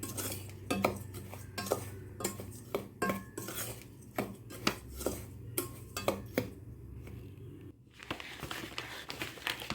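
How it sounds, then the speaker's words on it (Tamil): Millet laddu mixture being stirred in a pan, with a utensil scraping and clinking against the metal in a quick irregular rhythm, close and fairly quiet with no talking. "சூட்டோட நம்ம என்ன பண்ணிக்கலாம் அப்படின்னா கிளறி விட்டுக்கலாம்"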